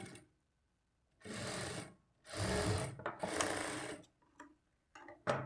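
Sewing machine stitching a folded edge on a plain blouse, running in several separate bursts of steady whirring with short pauses between, close and fairly loud, no talking.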